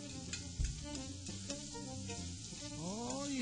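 Onions sizzling on a grill with a steady frying hiss, a few light scrapes and knocks, and a rising whine or whistle toward the end.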